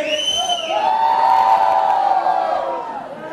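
A concert audience in Łowicz screams and cheers, a dense swelling roar of high-pitched shouts and whoops that peaks loudly in the middle and then slowly fades, with no speech over it.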